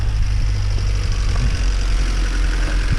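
A 1.6 VTEC Honda Civic engine with 200,000 miles settles into a steady, even idle, a constant close low hum with faint mechanical ticking and no voices.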